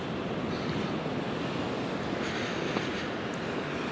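Steady broadband roar of ocean surf on a deserted Scottish beach, waves washing continuously with wind noise on the microphone, no voices.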